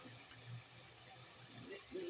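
Ground spinach paste from a juicer poured into a pan of well-fried masala for aloo palak curry, a soft wet pouring with a brief louder splash near the end, quiet throughout.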